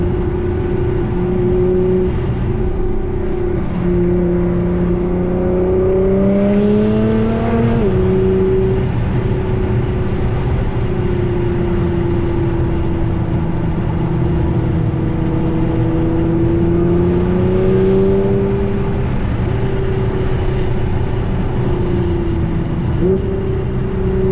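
A 2014 Nissan GT-R (R35) engine drones loudly close by, its pitch rising and falling through several pulls and gear changes over a constant road and wind rumble.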